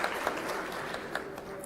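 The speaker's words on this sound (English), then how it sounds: "A big round of applause and thank you for making all the way from Armenia." Brief, moderately quiet applause from a business round table audience, steady clapping for under two seconds.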